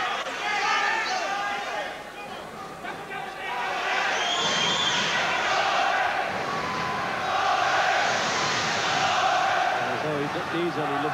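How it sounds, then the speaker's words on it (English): A boxing arena crowd chants in unison for Glenn McCrory, a sustained loud roar of massed voices with rhythmic swells and some shouting throughout. "Crowd there giving the McCrory chant, and plus 50 members of his own family."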